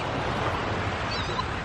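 Ocean surf washes steadily onto a warm, breezy beach, a continuous broad wash of breaking waves with some wind noise and no clear talk.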